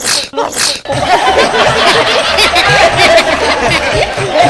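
A loud close sneeze during a Telugu comedy sketch, two quick explosive bursts in the first second followed by sustained chuckling and laughter from a crowd.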